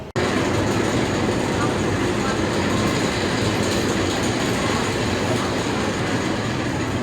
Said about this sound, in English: see that train just now doing the helix